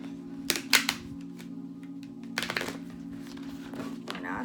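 Two brief bursts of tarot card shuffling, crisp riffling flutters close by, separated by quieter handling noise over a steady low hum.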